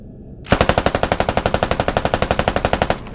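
A helicopter door gunner's machine gun in a combat video game fires one long, evenly paced burst of about twenty-five loud, close rounds that starts abruptly and stops near the end, with no talking.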